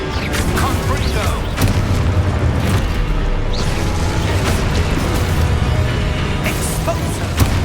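Booming Confringo spell explosions in the Hogwarts Legacy video game, repeated blasts and pops amid continuous combat noise, loud and close, with a voice speaking over parts of it.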